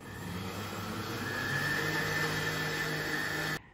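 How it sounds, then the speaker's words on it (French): A hand blender purées a cooked sauce, its motor whirring steadily and close, rising slightly in pitch before cutting off abruptly just before the end, with no talking. "Donc la sauce est prête, on va simplement venir mixer avec un mixeur."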